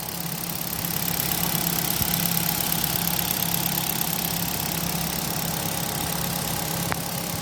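Hyundai Accent sedan engine idling with the hood open, a steady low hum with a faint mid-range tone, continuous and fairly loud throughout with no talking.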